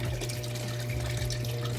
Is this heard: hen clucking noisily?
no